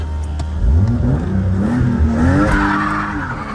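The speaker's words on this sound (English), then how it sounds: "it did a burnout perfectly once it was warmed up" A newly built drift car with its engine warmed up revs hard and breaks its rear tires loose in a burnout, producing a loud, close, sustained engine roar with rising pitch and continuous tire squeal.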